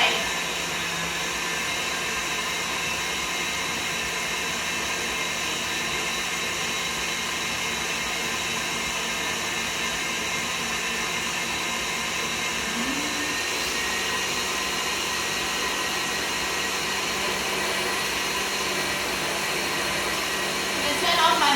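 An electric cake mixer runs steadily while making an elderflower and lemon drizzle cake, giving a constant whirring motor drone with a fixed pitch that holds for the whole stretch, close and uninterrupted.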